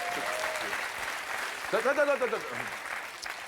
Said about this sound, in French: un petit applaudissement. Très léger.